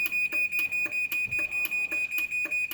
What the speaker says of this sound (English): And then once it beeps 3 times, it's done setting the force.